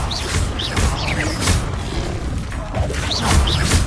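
Confringo blast spell in Hogwarts Legacy, a steady roar of explosive bursts, crashes and whooshing impacts running without pause, with sharp repeated hits layered over a dense low rumble.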